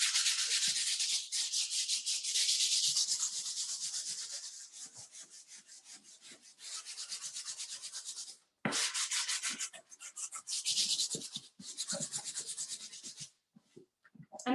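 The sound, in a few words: sanding the back of a painted purse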